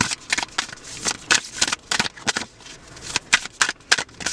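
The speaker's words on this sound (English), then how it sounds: "you shuffle, shuffle, shuffle, and you get a few cards out" A deck of playing cards is riffled and shuffled close up, giving a series of quick, crisp ripping flutters and taps in an uneven rhythm, with no talking.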